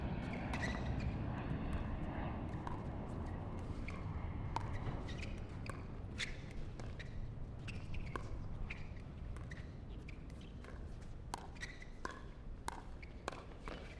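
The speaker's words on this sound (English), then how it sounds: "As you can hear, planes coming on over." Jet airliners passing low over an outdoor pickleball court beside LaGuardia Airport in New York City make a steady, broad engine roar that fills the whole stretch, with sharp ball pops and footsteps ringing out on top.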